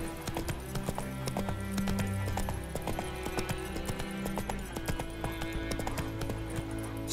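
Horse hooves clip-clop steadily at a gallop in the Witcher 3 video game, a continuous rhythmic pounding heard close over game music and ambient sound.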